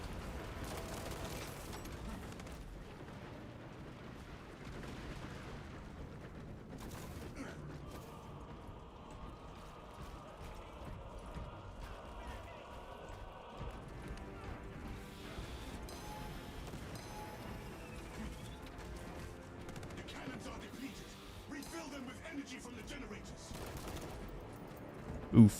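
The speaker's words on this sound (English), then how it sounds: "Maybe it's because I'm firing it too fast." Rapid gunfire from a gun in the Warhammer 40K video game, fired fast in a dense, continuous stream of shots and mechanical clatter mixed with other battle noise, ending in one louder burst, with voices in the background.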